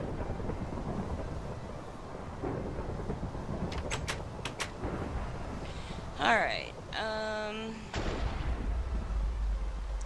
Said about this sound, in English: This is one hell of a storm